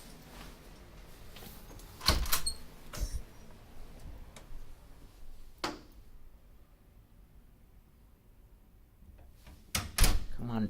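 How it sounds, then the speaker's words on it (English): A door is pushed shut in a few separate knocks and thuds spread across the stretch, with a final bang near the end and faint background murmur between them. "Come on, door, close."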